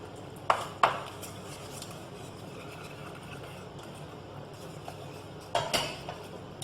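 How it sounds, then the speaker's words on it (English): Dill, parsley and chopped gherkins being stirred into a fish pie mixture in a kitchen, with a few sharp clinks of a utensil against the bowl over a quiet, muffled background. "Stir that in."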